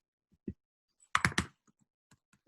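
Typing on a computer keyboard while entering a lender name into a finance app: a few scattered key taps, then a quick close burst of three clacks, followed by sparse lighter presses in a quiet room.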